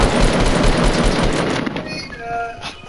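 Dense rapid gunfire in the Fortnite video game rattles loudly for about a second and a half, then fades out under a brief electronic tone.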